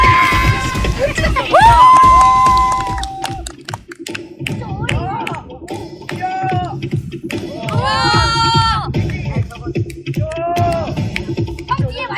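Crowd applause and cheering at a summer beach busking show, following the announcement of a taekwondo dance opening act; loud clapping and shouts mixed with voices and whistle-like calls, with music in the background.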